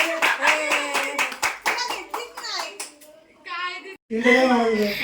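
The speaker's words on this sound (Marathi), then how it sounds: "टाळी वाजव दादू, टाळी वाजव" A small child claps hands in a run of quick, sharp claps at a home birthday, with voices chattering loudly over and between them.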